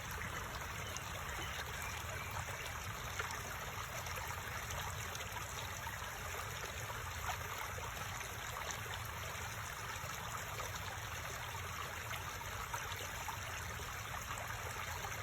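Steady, continuous rush of falling water, like a small stream or cascade, running evenly and fairly loud throughout with no pauses and no voices.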